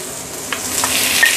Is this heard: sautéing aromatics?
yes